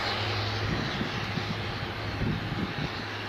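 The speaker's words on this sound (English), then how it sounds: "we've got the Scandinavian CRJ 900 all lined up, ready to depart, and they're just about to depart runway 16 now" Scandinavian CRJ 900 jet departing runway 16 at Aberdeen Dyce Airport, a steady loud engine roar with a low hum underneath, heard alone and close.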